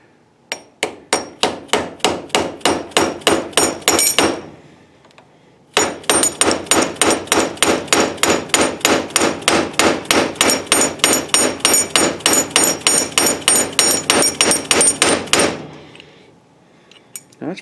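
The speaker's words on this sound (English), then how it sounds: "tap it down with a hammer." Rapid, evenly spaced hammer taps ring sharply on a metal Ford Mustang door hinge part, one quick run of blows, a short pause, then a longer steady series, loud and close.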